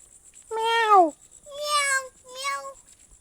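A voice imitates a cat, giving three meows in a row, the first longest and loudest, in a quiet room.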